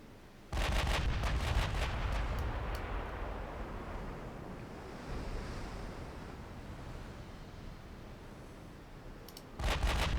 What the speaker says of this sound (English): Let's get the 6-inch guns involved on these destroyers, I think.